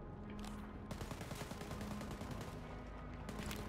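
Mounted turret firing in Wolfenstein: Youngblood, a rapid sustained hammering of automatic shots, loud and close, with brief pauses between bursts and no talking.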